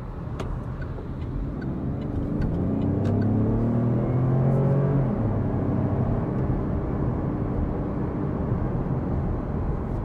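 A 2025 Opel Frontera SUV accelerates on a highway, heard from inside as a steady engine drone rising in pitch under heavy road and tire roar, with a few faint clicks.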